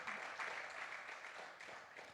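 Church congregation applauding, a sustained, dense patter of many hands clapping together at moderate distance, steady throughout without voices standing out.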